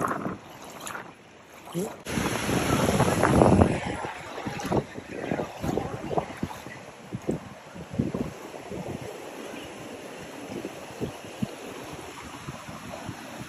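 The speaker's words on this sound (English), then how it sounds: "Yeah, the wind's picking up." Gusty wind buffets along a flooded street in Chiang Mai, rushing noise rising and falling with splashy water movement, while a person briefly speaks close by.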